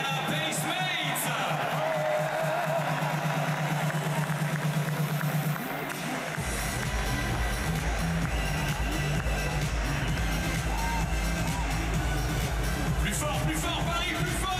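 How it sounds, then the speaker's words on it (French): A crowd at an NBA game in Paris, Spurs versus Pacers, applauds and cheers the Indiana Pacemates dancers, a broad sustained roar of clapping and whoops mixed with arena noise and a low hum. "Applaudissements s'il vous plaît pour les Indiana Pacemates."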